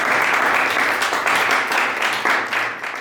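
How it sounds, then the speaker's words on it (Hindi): An audience at a disaster management resource centre inauguration in Solan gives loud, continuous applause to welcome a speaker onto the stage, with dense clapping in uneven surges and no talk over it. "जोरदार ताली से स्वागत करें प्लीज।"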